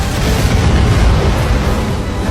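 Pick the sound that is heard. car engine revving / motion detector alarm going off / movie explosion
movie explosion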